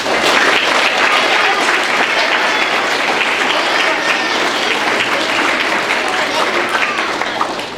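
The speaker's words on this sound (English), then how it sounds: "Please give them all a round of applause." Loud, sustained applause from an audience for third-grade students at a school awards ceremony, a dense steady wash of clapping holding for several seconds before easing slightly.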